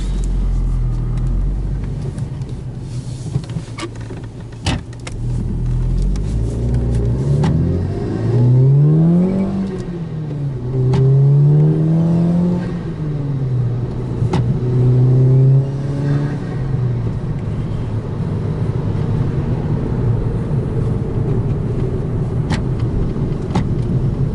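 A car with a 2.0T FSI engine and a Frankenturbo F23T turbo on a stock tune pulls hard through several gears, its engine note rising and dropping in repeated sweeps over a loud, close rumble.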